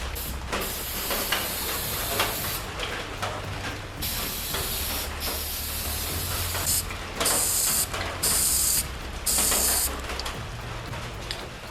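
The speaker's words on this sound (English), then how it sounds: "keep the can 3, 4, 5 feet away and just mist this with the gray primer" Continuous hiss of a spray paint can misting gray primer onto a plastic skeleton, with short pauses and bursts and a few faint clicks of the nozzle.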